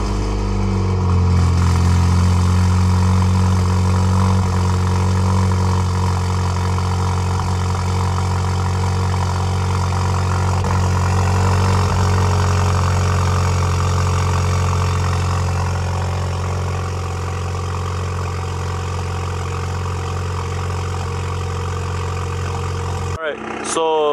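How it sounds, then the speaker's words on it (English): A deep, throaty engine from a catless, straight-piped Alfa Romeo Giulia idling steadily and loudly up close, with a rough low rumble that holds even throughout before cutting off at the end. "So the car is idling now."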